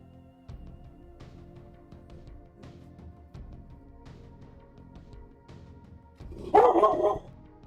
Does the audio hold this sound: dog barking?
yes